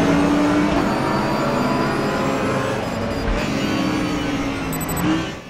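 Audi R8 LMS GT4 race car engine in the Raceroom racing game, a sustained close drone whose pitch shifts as it revs and accelerates, with no talk.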